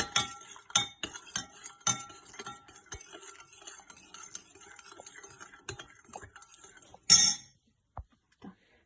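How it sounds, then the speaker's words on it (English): A metal spoon stirs a mixture until it dissolves, clinking repeatedly against the container in quick irregular taps, close and fairly quiet, with a brief louder scrape near the end followed by a couple of soft knocks. "I'm just going to get one spoon, stir it about like so until it all dissolves"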